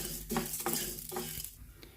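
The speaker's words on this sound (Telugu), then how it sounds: "ఇప్పుడు ఈ మినపప్పు వేసేస్తున్నాను. 2 కలిసి ఒకటేసారి వేగిపోతాయి." Urad dal sizzles in a little hot oil in a pan while a spoon stirs it, making soft crackling with scraping and clinking strokes at an uneven rhythm, close and fairly quiet.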